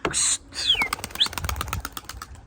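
Wings flap in quick, rustling bursts as tumbler pigeons take off and fly close by, with a short chirp near the start.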